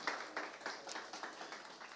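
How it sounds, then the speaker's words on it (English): Audience applause at a venture capital conference panel as panelists walk to the stage, a light, fairly sparse patter of clapping from a modest crowd heard at a moderate distance, steady for two seconds. "Please come to stage and round of applause,"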